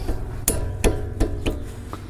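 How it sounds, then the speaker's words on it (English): Small hammer tapping a wrench while loosening front brake pad hardware on a Honda Pilot or Acura MDX: four or five sharp, ringing metal strikes spaced about a third of a second apart, close and clear. "Tap the hammer onto the wrench."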